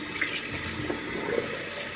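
Tap water runs steadily as items are rinsed under it, a soft continuous splashing rush close by without any speech.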